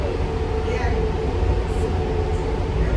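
Steady loud rumble and roar of an uptown subway train in motion, a dense continuous rail noise filling the whole stretch, with a voice talking faintly underneath.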